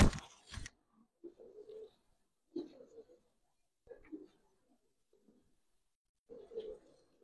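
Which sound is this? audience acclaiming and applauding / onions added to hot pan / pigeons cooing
pigeons cooing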